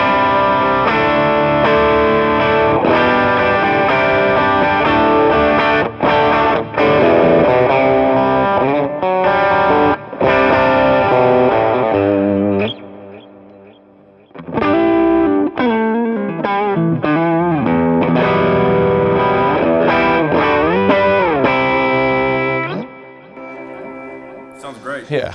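Electric guitar running through a Jackson Audio Bloom compressor pedal with its EQ switched on, playing sustained chords and melodic phrases with effects, loud and continuous with a couple of brief pauses.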